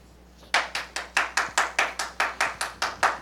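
An audience claps at a county board public hearing on an emergency housing ordinance, a loud, steady run of about a dozen evenly spaced claps after a quiet start.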